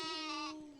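A single short goat bleat from an animated Hindi story, a clear, close, wavering cry that trails off within a second.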